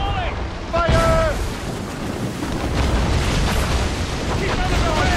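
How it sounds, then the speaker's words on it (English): Ship cannons fire a volley in a naval battle, heavy booming rumble rolling on for several seconds while voices shout over it. "They're firing a volley!"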